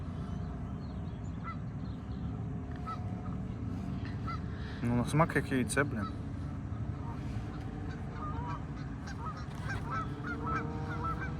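A short burst of loud goose honking cuts in midway over constant background noise, while a person talks casually nearby.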